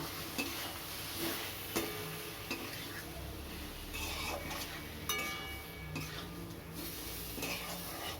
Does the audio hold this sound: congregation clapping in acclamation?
no